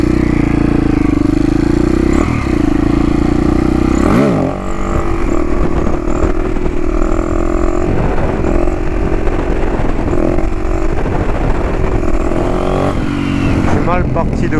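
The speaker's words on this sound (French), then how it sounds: "l'échappement est quasiment vide," Husaberg 450 FE supermoto motorcycle with a nearly empty exhaust, its engine running loud and close throughout with a steady thrumming idle and rough blips, while a voice talks over it.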